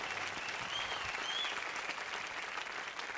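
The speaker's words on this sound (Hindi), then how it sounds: "जोरदार तालियों के साथ उनका स्वागत करें।" An audience gives strong applause welcoming two poets, Swati Khushboo and Sudhanshu Shekhar, at a Chhath festival poetry show. The dense clapping runs steadily at even loudness throughout, with no talk over it.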